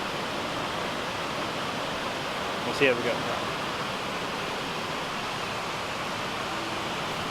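Reekie Linn waterfall with a heavy volume of water pouring over, a steady broadband roar filling the whole clip, with a voice speaking briefly over it.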